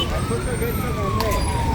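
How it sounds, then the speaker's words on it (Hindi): Police and ambulance sirens wail while approaching the scene of a serious road crash in front of a hotel, a steady rising and falling tone carried over traffic noise and crowd murmur. "हम उनके सायरन सुन सकते हैं।"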